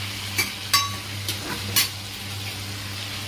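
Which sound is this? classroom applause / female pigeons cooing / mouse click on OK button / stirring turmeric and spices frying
stirring turmeric and spices frying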